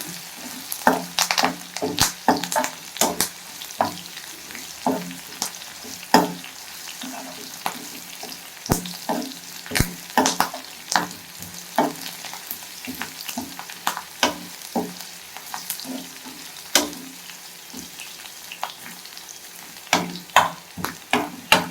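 Garlic being tempered in a pan for bottle gourd koottu, with steady close frying crackle broken by frequent sharp clicks of a spoon stirring against the pan throughout.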